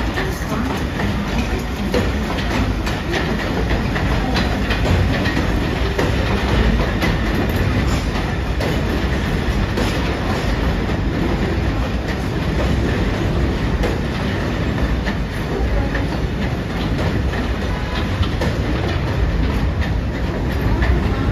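A six-car R62A subway shuttle train roars through East 174 Street station without stopping, a loud, continuous rumble of wheels and clattering cars that stays close and steady throughout.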